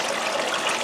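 Water squirts from a bottle onto a gold panning table in a steady, hissing trickle that runs unbroken for under a second, close and fairly loud with no talk.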